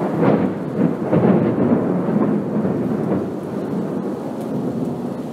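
Rolling thunder from a storm rumbles low and continuous throughout, with rain hissing steadily underneath; no talking.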